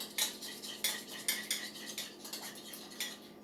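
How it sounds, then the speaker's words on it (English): Balsamic vinegar salad dressing being stirred in a bowl, with a run of close, rhythmic clinks and scrapes of a utensil against the bowl, about a dozen strokes in quick succession. "Let's stir that up."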